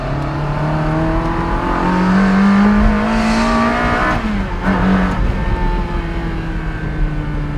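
A Ferrari 360 Spider drives past and revs, its engine tone rising and falling through gear changes with a loud surge midway, close and continuous without voices.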